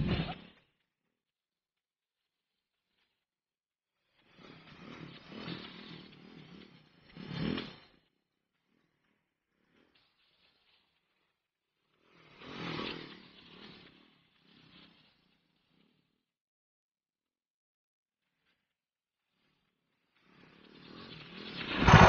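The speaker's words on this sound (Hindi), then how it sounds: "इस सर्कल के अंदर दोनों भाई बाइक चलाएंगे" A Royal Enfield Scram 411 motorcycle rides round a small off-road circle, its engine rising and fading in separate bursts as it passes near and away, with long quiet gaps between passes and a louder approach at the end.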